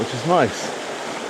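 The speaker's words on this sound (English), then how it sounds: "There's some nice little cascades in the foreground here that lead all the way up to the main body of the waterfall, which is Hindhope Lynn." Water pours steadily over the Hindhope Linn waterfall and its small cascades, a constant rushing wash under a brief spoken remark.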